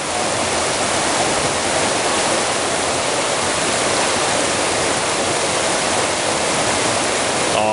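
Rushing water of Naramata Creek on a hiking trail, a loud, steady broadband roar close by that stays constant throughout, with no voices.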